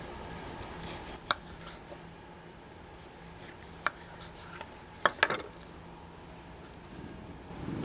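Knife strokes slicing down through a smoked stuffed flank steak on a cutting board, a few sharp clicks and taps of the blade against the board, spaced and fairly quiet over a low room hum.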